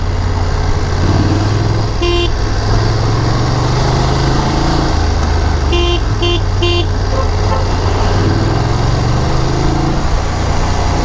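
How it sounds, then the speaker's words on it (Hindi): A car horn honks in short bursts, one single toot and then three quick ones, over a steady engine drone and road noise, on a mountain road through a landslide area between Bhutan and Gangtok. "यहाँ मैं हॉर्न से हाथ नहीं हटा रहा हूँ उतना"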